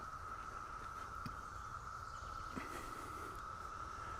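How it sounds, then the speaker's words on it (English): Cicadas droning on a wooded trail in Fort Harrison State Park, a steady loud buzz holding at one pitch throughout, with a couple of faint brief knocks and no talking. "Cicadas just got really loud over here."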